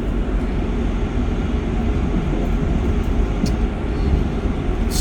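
Passenger train of Great British Railways, a steady rumbling roll of wheels on track, loud and constant with no speech.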